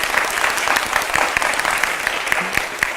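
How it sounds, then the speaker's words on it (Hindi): Loud, steady applause from a large crowd at a gathering following news of the Chandrayaan-3 moon landing, dense clapping throughout with a few sharper individual claps standing out. "तो चलिए इस बात पर पहले एक बार जोरदार तालियां"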